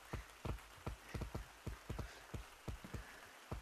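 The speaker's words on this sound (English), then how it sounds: "The first thing I notice, there's rain! Dude, there's actually rain." In the Gorilla Tag VR game's forest, rain patters in sharp, irregular, close taps, like drops striking a surface, spaced a few per second over faint background hiss.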